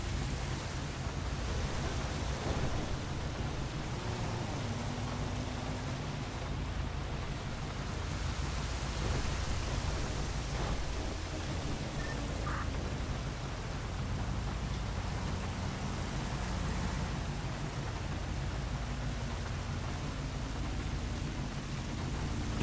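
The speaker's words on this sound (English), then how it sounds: "I've been in the rain for so long, I'm gonna get sick." Steady, dense rainfall in a police roleplay game, a continuous broadband hiss with low rumbling, heard alone throughout with no voices.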